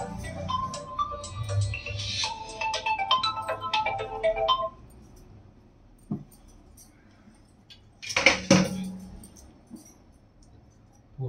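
A mobile phone ringtone chimes during a home Ganesha puja in Nellore, a bright electronic melody for several seconds before it stops, followed by quiet room noise and a brief clatter.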